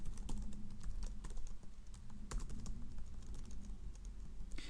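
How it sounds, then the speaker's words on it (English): Steady, fast typing on a computer keyboard while writing script tags for jQuery code, with dense close clicks running throughout. "by typing out our script tags"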